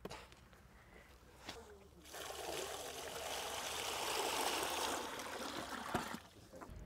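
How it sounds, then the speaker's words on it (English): Water pours into a garden water feature pot, a broad steady gushing splash that swells from about two seconds and tapers near the end, close and fairly loud with no talk. "And then comes the fun part, to add the water."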